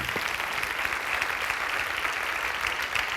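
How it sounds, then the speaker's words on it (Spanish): A church congregation at a Wednesday evening service claps together in steady, continuous applause, a moderately loud and even wash of hands throughout. "Dele un aplauso al Señor, hermano."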